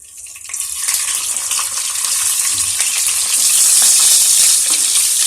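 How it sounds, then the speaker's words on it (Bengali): Four eggs sizzle and crackle loudly in hot oil, the frying growing more intense and steady over a few seconds. "এবার ওই ভাজা তেলেই আমি ডিমগুলো ভেজে নেব।"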